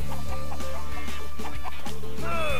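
Chickens in the Shrek 2 GameCube video game cluck in repeated short bursts over a constant looping game soundtrack, loud and close.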